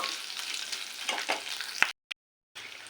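Vegetables fry in a pan with a steady close sizzle and a few stirring clicks, then the sound cuts off abruptly with short breaks of silence near the end.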